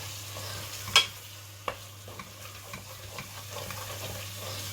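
Spices being mixed into a clumpy mixture in a pan, with a sharp clack of the spoon near the start followed by quieter scraping stirs over a low, steady sizzle.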